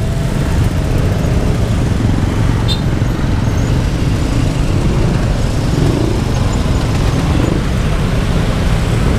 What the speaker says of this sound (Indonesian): ternyata pas keluar kita sudah disambut dengan kemacetan nih.